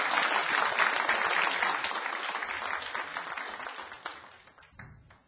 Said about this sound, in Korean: 김용모 사장님께 다시 한번 그 감사의 박수를 부탁드립니다